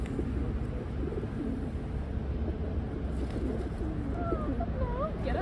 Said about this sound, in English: Oh wow, birdies.